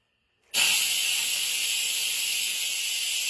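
A pressure cooker holding birria vents its steam in a loud, sudden hiss that cuts in after a brief silence, then holds as a strong, steady, high jet to the end.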